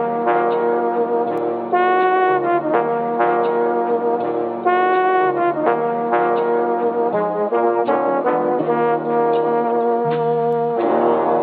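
Melodic music sample run through Cymatics Origin and EQ to trim the high and low end, leaving a dense midrange band of sustained chords and a looping phrase, playing alone at steady loudness.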